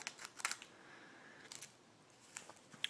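Scissors snip open a sealed Magic: The Gathering M14 booster pack, a few short crisp cuts and crinkles of foil wrapper heard up close in a quiet room, with no talking.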